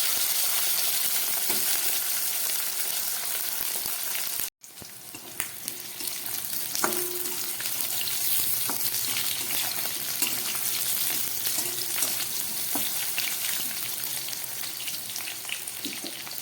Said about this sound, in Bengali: আলুগুলো ভাজা হয়ে এসছে। এবার এর মধ্যে কয়েক টুকরো বেগুন দিয়ে দিই।